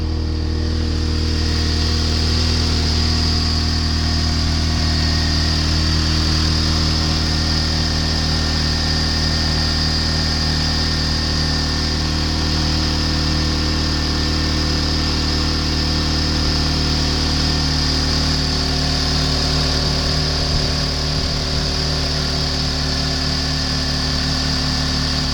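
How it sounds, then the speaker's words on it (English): A 2004 Honda Civic engine runs steadily on a test stand, a constant close, loud idle-like drone with a whining high tone, holding unchanged for about twenty-five seconds with no talking. "J&J engine test G4HN136. It's a 2004 Honda Civic."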